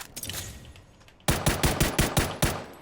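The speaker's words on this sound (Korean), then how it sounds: "재장전 하고 바로 총쏘기" Gunfire in the video game PUBG Battlegrounds follows a reload: faint scraping and handling, then a loud rapid burst of about eight evenly spaced shots, close and alone.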